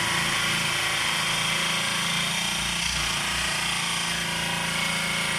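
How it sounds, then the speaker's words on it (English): A steady, loud grinding roar of a lapidary saw cutting through red jasper runs without a break, with a low rumbling engine-like hum underneath. "A lot of times I kind of rotate the rock while I'm sawing it"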